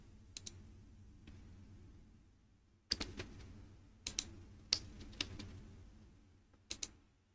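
Faint computer keyboard clicks while HTML code is typed, sparse bursts of a few keystrokes separated by quiet pauses, close but very low in level.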